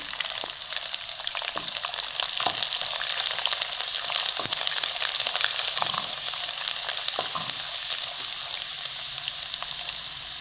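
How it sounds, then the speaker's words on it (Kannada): Curry leaves and peeled garlic frying in oil in a pan for tomato gojju, a loud, steady, bright sizzle with periodic stirring scrapes, close up and uninterrupted by speech. "ಬೆಳ್ಳುಳ್ಳಿ ಹಾಕಿ ಇದನ್ನು ಚೆನ್ನಾಗಿ ಎಣ್ಣೆಯಲ್ಲಿ ಫ್ರೈ ಮಾಡ್ಕೊಂಬಿಡಿ"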